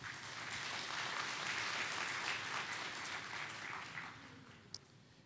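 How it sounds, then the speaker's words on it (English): A church congregation claps together, a broad wash of many hands that holds steady and then slowly thins out, heard from a distance at low volume with no one speaking. "Give the Lord a hand clap."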